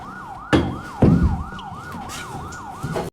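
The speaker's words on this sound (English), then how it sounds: "As the sound of police sirens began to approach the store" A wailing police siren approaching rises and falls in steady cycles, with a couple of sharp knocks and thumps partway through.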